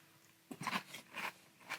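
Biting and chewing Strawberry Cinnamon Toast Crunch cereal, a few close crunchy bites after a quiet start, spaced in a loose rhythm, no talk.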